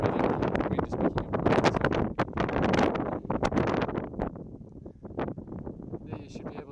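Strong gusty wind buffets the microphone on a hike at Tierkloof Waterfall, a loud rough roar in uneven surges that eases toward the end.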